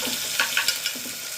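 Long-sliced onions sizzle in a pan as they are stirred, with a few brief scraping knocks of the spoon over a steady frying hiss.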